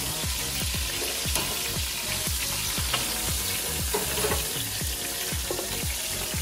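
Seared pork ribs sizzle loudly and steadily in a Dutch oven on a gas grill, a dense continuous frying hiss with scattered pops and clinks, close up and without talk.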